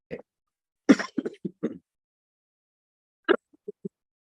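A person clears their throat and gives a few short, dry coughs in two separate bursts, close to the listener, with quiet pauses between.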